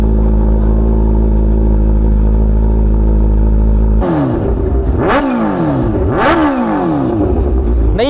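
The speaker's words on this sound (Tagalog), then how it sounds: "Pakinggan natin ang H2 ni Kenji." Kawasaki H2 superbike engine at a car meet, holding a steady loud idle drone before two sharp throttle blips rev up and fall back, each a rising and falling surge, close and loud.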